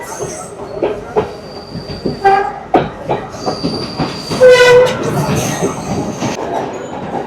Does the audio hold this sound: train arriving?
yes